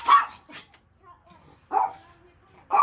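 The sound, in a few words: dog barking at neighborhood kids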